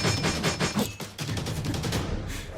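Rapid burst of sharp gunshot cracks from a sniper hunting rifle in the RWBY animated series, fired in quick succession like a fusillade, loud and close with a brief gap before a denser stretch of shots.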